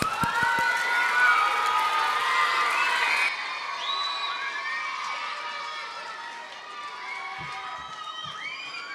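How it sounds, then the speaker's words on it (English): Children at a kids camp cheer, whoop and shout in a big excited burst with scattered claps, then the noise eases into lighter chatter and shouts. "Give him a round of applause."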